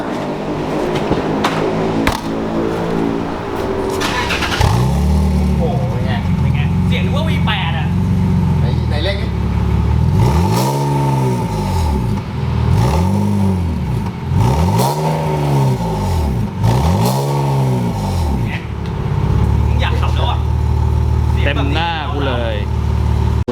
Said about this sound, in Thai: ฟังเสียงท่อหน่อยไหม